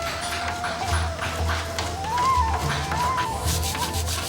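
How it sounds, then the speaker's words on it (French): A wooden table is sanded by hand, giving steady rhythmic rubbing strokes that are close and moderately loud, with a faint tonal whine in the background. "La table est ensuite poncée"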